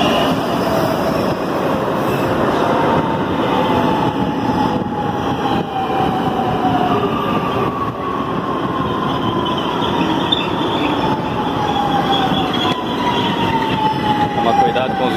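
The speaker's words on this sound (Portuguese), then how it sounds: "aí tá chegando o trem que nos levará até o Autódromo de Interlagos" Commuter train on the Mendes-Vila Natal line arriving at a São Paulo station on the way to the Interlagos racetrack: a continuous loud rumble of rolling wagons with drawn-out wheel squeals rising and falling across the arrival.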